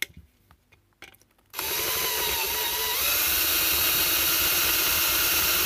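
A few light clicks and taps, then a power drill starts abruptly and runs loud and steady, drilling out metal rivets in an MK screwless electrical socket close by.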